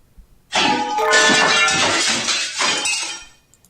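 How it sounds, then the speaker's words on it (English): A glass object shatters with a loud crash in Hatoful Boyfriend, a single burst of breaking and tinkling shards that rings out for about three seconds before fading, with no voices. "Some glass object splinters with a monumental crash behind us as we make for the exit."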